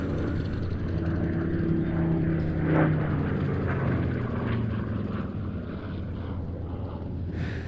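A SAAB B17 propeller bomber drones steadily overhead at the Duxford air show, a loud continuous engine hum with shifting tones as it passes, no voices present.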